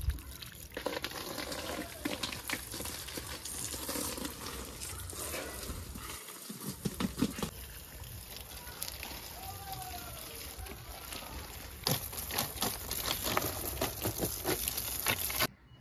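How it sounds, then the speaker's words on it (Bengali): Water poured onto a small newly planted potted plant, a soft continuous splashing and trickling with some patter, fairly quiet, with handling clatter and a brief break partway through. "আর গাছটার মধ্যে জল দিয়ে নিচ্ছি"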